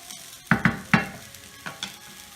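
Rice frying in a pan for seafood paella, with a low sizzle under several sharp stirring knocks and scrapes, three close together early and two more toward the end, no talk.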